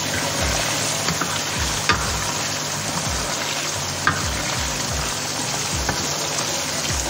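Spicy tuyo dried fish frying in a pan, a dense, steady sizzle and crackle of hot oil that runs throughout with small pops, and nobody speaks.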